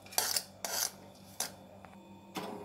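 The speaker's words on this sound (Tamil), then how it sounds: "இந்த பெரண்டையெல்லாம் ஒரு தட்டில் மாற்றிக்கலாம்." Roasted pirandai is moved from a kadai onto a plate: four quiet, short metallic scrapes and clinks of a spoon against cookware, spaced apart, with no talking.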